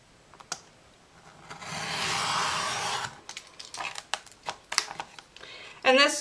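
A blade cutting through the thick cardboard of a Crown Royal box on a cutting mat, heard as a sustained rasping scrape for a couple of seconds, then scattered taps and handling knocks close by.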